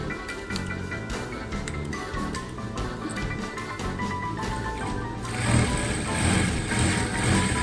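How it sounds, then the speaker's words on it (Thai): A home sewing machine stitching along the edges of a homemade fabric mask holder, a steady close mechanical whirring chatter that grows a little louder and brighter toward the end, with no voice over it. "อันนี้ถึงขั้นตอนการเย็บนะคะเราก็เย็บริมๆนะคะ เย็บทั้งสองข้างค่ะ"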